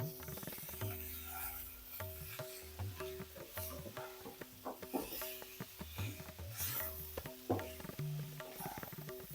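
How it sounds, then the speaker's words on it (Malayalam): A spoon scrapes and rubs through thick curry in a pan, irregular stirring strokes with knocks against the metal, close and fairly loud, with no voices. "നമുക്കിതൊന്ന് ഇളക്കി കൊടുക്കേ."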